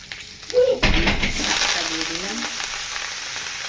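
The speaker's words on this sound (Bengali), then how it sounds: "কয়টা কাঁচা লঙ্কাও দিয়ে দিলাম তেলের মধ্যে" Green chillies dropped into hot oil with black cumin erupt in a sudden loud sizzle, then settle into a steady crackling hiss, with a faint voice briefly audible.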